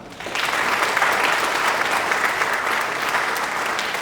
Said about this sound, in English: our arts and entertainment organizations deserve another round of applause